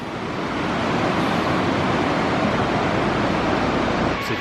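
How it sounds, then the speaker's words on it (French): River in Nepal running close by, a steady broad rush of water holding evenly loud for a few seconds, with no talking. "Et la rivière qui est juste ici, là."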